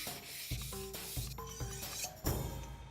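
A knife is sharpened on a wet whetstone, with rhythmic gritty rubbing strokes, roughly every half second, close and clear, without any talk.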